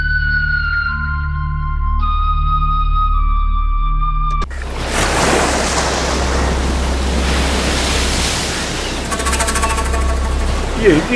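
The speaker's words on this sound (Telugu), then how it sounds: "ఏంటి సముద్రంలో ఇలా గాలులు వస్తున్నాయి?" Strong wind and surf roar at sea in a dubbed film scene, a loud broad rushing that bursts in after a short passage of soft tonal music and keeps surging.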